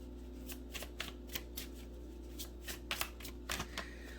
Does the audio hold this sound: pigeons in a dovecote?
no